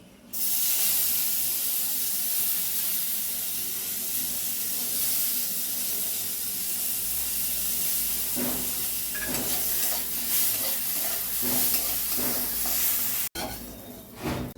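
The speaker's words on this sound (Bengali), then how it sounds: "এবারে গোবিন্দভোগ চালটাতে লবণ হলুদ মাখিয়ে ভেজে নিচ্ছি।" Gobindobhog rice mixed with salt and turmeric frying in a pan, a continuous loud sizzle and hiss with a few scraping stirs near the end.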